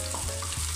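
Oysters stirring in oyster sauce in a hot frying pan for a chicken and vegetable macaroni, giving a brief, close, steady sizzle with soft scraping movements.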